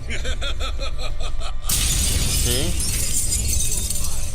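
A mirror shatters in The Witcher 3: Hearts of Stone with a sudden loud crash of breaking glass that cuts off a pulsing tone, followed by bright scattering shards and a low rumble.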